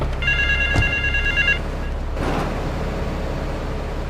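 Phone ringing in Grand Theft Auto 3, a short electronic trill heard once in the first second and a half, over a steady low engine hum from game traffic.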